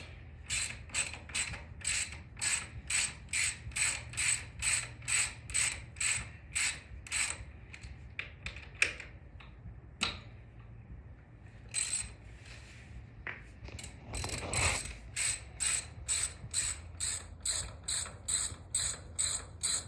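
Rapid clicking of a ratchet working loose the brake caliper bolts on a motorcycle front wheel, bursts of sharp, evenly spaced clicks with a short pause midway, close and crisp.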